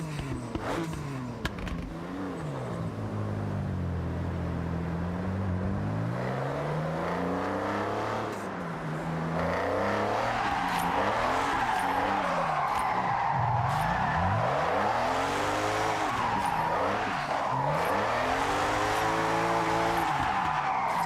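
A BMW drift car in the Forza Horizon racing game: an engine revving and falling in long sweeping pitch swings, with tires skidding and squealing under sustained throttle, loud and continuous throughout.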